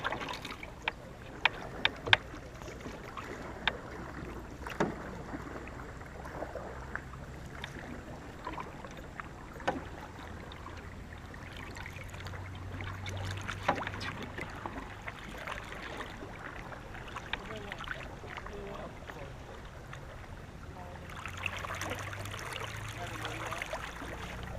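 A college war canoe is paddled on open water with soft, steady water washing and faint splashes over a continuous outdoor rumble, moderately quiet and at a distance.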